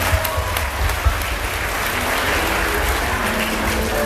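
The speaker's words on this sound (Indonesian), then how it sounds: "Oke, dikasih aplaus dulu semuanya." An audience at a stage drama performance applauds, a loud, dense, steady round of clapping from many hands that continues unbroken throughout.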